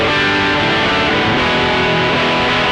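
Electric guitar riff played through a Mosky Mini Screamer tube screamer pedal, volume pushed and drive backed off, giving a tight, sustained overdriven tone that rings steadily and alone.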